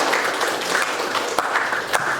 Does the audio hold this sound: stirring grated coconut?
no